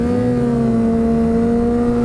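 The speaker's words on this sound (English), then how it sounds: "Well, he was doing a wheelie in second." A motorcycle pulling a wheelie in second gear, its engine droning at a loud, steady high pitch with strong harmonics throughout, close and continuous with no talk.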